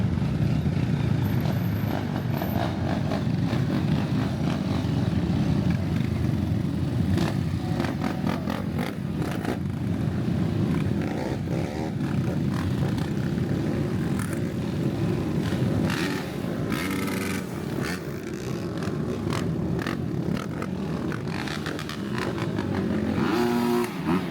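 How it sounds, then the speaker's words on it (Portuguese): Trail dirt bike engines drone and rev continuously nearby, several bikes climbing a trail with uneven throttle bursts, loud throughout with no voices. "a galera subiu de trilha, de moto de trilha"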